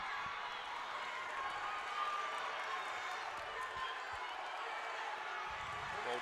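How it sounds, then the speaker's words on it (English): Crowd at a high school wrestling match, a gym full of spectators cheering and clapping in a steady, fairly faint wash of noise with occasional thumps. "You can hear the crowd getting into it."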